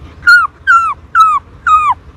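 Four evenly spaced, falling whiny yelps from a voice imitating a puppy's whimper, close-up and alone.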